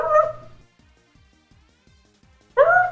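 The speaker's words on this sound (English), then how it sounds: "I had the dogs in the back. They're waiting. They're waiting as we speak. You hear them?" Dogs give a short run of soft, faint yips and whimpers, evenly spaced, in the quiet gap between two brief louder bursts of another sound.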